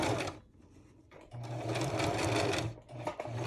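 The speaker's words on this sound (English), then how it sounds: "Make one stitch, back stitch a couple, and then continue on my line." A sewing machine stitches a fabric doll, its needle running in a steady close whirring chatter that pauses briefly and then carries on for a longer run.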